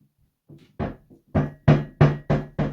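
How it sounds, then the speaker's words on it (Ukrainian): Bathroom vanity sink knocking against the wall, a run of about seven hollow thuds that start soft and then come in a steady, loud rhythm, close up with no talk. "Чуєте, да, як раковина контактує стіною."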